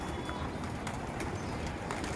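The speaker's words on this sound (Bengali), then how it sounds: "দেখেন কিভাবে কবুতর গোলা ঢুকতেছে" Pigeons coo softly near a coop while returning to it, the low calls repeating amid outdoor background noise with no talking.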